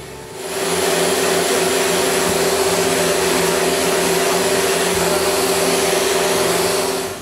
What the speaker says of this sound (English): Then I sand all the frames.